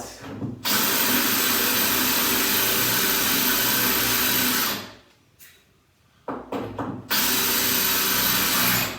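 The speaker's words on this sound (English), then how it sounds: "Best tile bits ever. Porcelain tile these. Dry it off. Give it a little wet." A power drill fitted with a wet tile bit bores loudly into porcelain tile with a steady close whine. It stops for about a second and a half, starts again in short bursts, then runs continuously once more.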